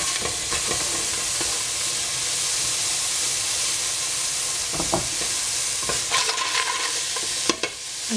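Onion sizzles steadily in a hot pan, a continuous broadband frying hiss with occasional stirring scrapes and clicks toward the end, fairly loud and close with no talking.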